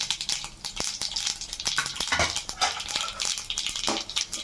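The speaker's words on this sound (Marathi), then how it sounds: "आता आपण याला फोडणी देऊया मी घालते मोहरी" Mustard seeds and cumin hit hot oil for a tempering, giving quiet, close crackling and sizzling with scattered sharp pops.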